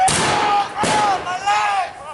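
A musket volley rings out at a King's Mountain battle reenactment, two loud sharp blasts with a ragged follow-up crack, while shouted commands and voices carry over the firing.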